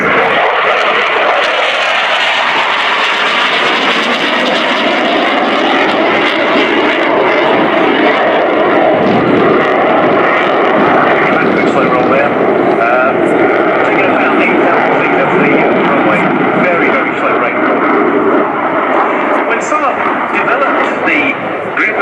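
A Swedish Air Force JAS-39 Gripen multi-role jet fighter flies a display slow roll at RIAT 2018, its loud, sustained engine roar filling the air continuously over about twenty seconds, with a commentator speaking over it.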